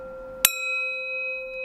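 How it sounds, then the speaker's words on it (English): A longcase clock bell struck once with a brass hammer, a sharp metallic strike followed by a clear, sustained ringing tone that decays slowly in a quiet room. "we can hear that the ringing of the bell has been restored"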